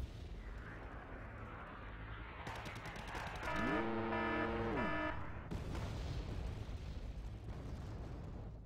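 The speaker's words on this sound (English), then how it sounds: "I guess a Nighthawk bomb does the trick." A Nighthawk bomb explodes in a Wargame Red Dragon battle, a muffled low blast and rumble set against a quiet background, joined midway by a rising tonal whine and a brief swell of noise.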